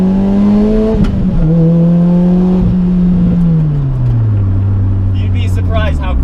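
A supercharged Lotus Elise with about 200 horsepower accelerating from low speed, its loud engine droning and rising through the gears with a gear change midway, heard from inside the car with a brief voice near the end.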